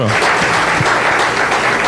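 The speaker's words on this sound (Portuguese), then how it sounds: "E aplauda ao Senhor nosso Deus, o Todo-Poderoso" Congregation applauding in praise during a church service, a dense, steady wash of many hands clapping at close range with some voices mixed in throughout.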